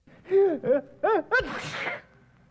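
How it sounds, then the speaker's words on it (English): A single loud sneeze, preceded by a few sharp, rising intakes of breath, then a hissing burst that trails off. "Suddenly he sneezed."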